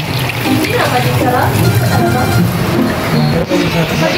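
Water pours into a cooking pot before meat and garlic go in, a loud, continuous splashing fill lasting several seconds while voices talk over it.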